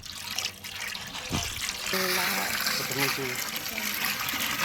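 Water is poured into a large pot for a big batch of chicken biryani rice, a close continuous splashing pour with rising gurgling tones and faint talk underneath.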